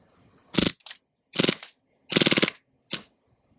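An airsoft secondary pistol fires on full auto in four short, loud bursts of rapid mechanical shots separated by brief pauses, with the last burst the shortest as the gun empties.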